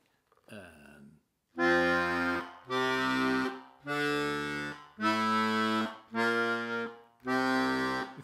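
A Digitrek 76 keyboard plays sustained chords with low bass notes from the hymn Abide with Me, six held blocks separated by brief gaps, after a short faint sound at the start.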